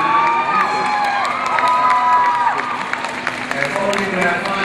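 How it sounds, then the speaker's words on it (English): Audience at a juvenile Latin dance competition final cheers, whoops and applauds loudly and steadily, a dense crowd roar with children's shouts mixed in. "ladies and gentlemen, cheer."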